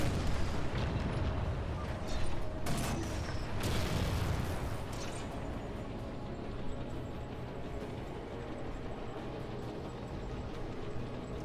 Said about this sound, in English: So now I'm just dodging these turrets here